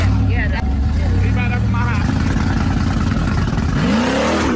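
A car engine with a dual exhaust revs loudly and steadily, a deep low rumble dominating throughout, with a voice talking over it.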